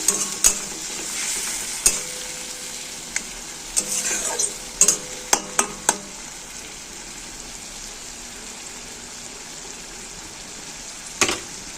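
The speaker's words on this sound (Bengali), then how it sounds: "নেড়ে চেড়ে একটু কষিয়ে নেব।" Turmeric and chilli powder being stirred in hot oil for a bitter gourd and potato curry, with a steady sizzle and intermittent sharp scrapes and clinks of the spoon against the pan, close and alone.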